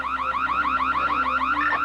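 An alarm sounds loud and close with a rapid, repeating warbling tone, cycling steadily without pause.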